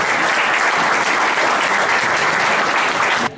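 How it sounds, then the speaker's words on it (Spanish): Dense applause from an assembled crowd at a meeting of the Frente de Defensa de Ayacucho, loud and continuous, then cutting off abruptly near the end. "Palmas formativas, compañeros."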